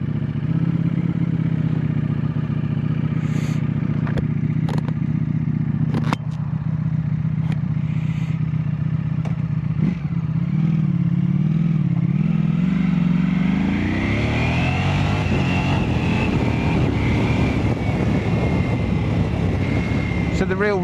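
A motorcycle rides along with a steady engine drone that climbs in pitch as it accelerates, wind rush and road clatter around it, and a voice speaks over the ride.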